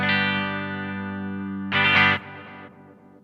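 Guitar run through a Strymon Volante echo pedal in drum mode at its lowest repeat quality: a sustained chord, then a loud burst that trails into dull, fading repeats with little high end.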